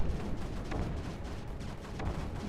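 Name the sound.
gunfire shooting units in video game Creeper World 4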